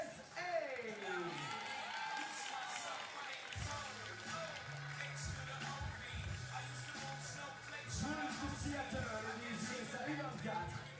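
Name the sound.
crowd applauding and cheering for team USA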